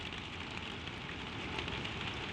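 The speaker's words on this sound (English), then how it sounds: "the rain falls steady on the roof just above you" Steady rain patters on a tram roof overhead, a soft continuous hiss with faint low rumbling underneath.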